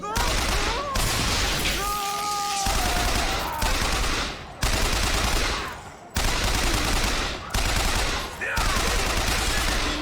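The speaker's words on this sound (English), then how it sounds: "Great, we ran out of machine gun ammo." Machine gun fire in Bioshock Infinite on 1999 Mode difficulty, loud sustained bursts of rapid shots with short breaks between volleys, amid game effects.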